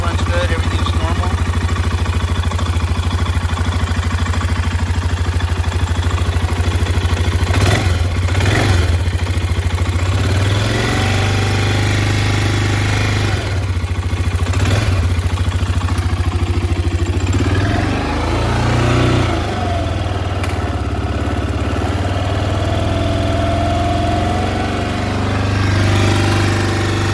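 A BMW F650CS motorcycle idles with a steady, loud, close mechanical thrum and clatter that lasts throughout, and the engine rises briefly a few times under occasional talk.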